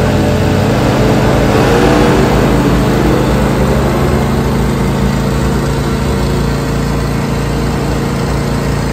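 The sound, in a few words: Harley-Davidson Iron 1200 air-cooled Evolution engine idling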